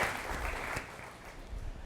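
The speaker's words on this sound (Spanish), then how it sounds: "Vamos a darle un aplauso al Rey de Reyes y Señor de Señores" Church congregation clapping briefly during a broadcast worship service, a soft, diffuse patter of applause that fades slightly toward the end.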